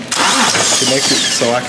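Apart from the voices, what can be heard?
BMW 335i N54 engine cranked with remote starter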